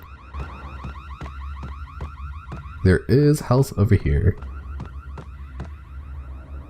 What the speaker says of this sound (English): This alarm's going off the whole time.